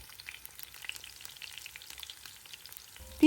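Chicken wings sizzle in a heated pan with a few spoonfuls of oil; the frying is soft and crackling, fairly faint and close, and swells into a louder burst at the very end.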